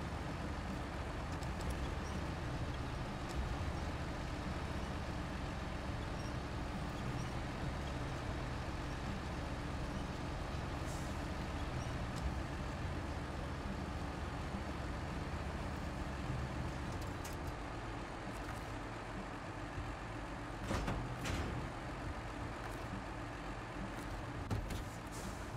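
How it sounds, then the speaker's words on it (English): Engine of the Brigadier vehicle in the game Block Beta, a steady loud rumbling drone with rattly, clattering texture running continuously throughout, with no talking over it. "the engine of Brigadier sounds like a bag of bolts"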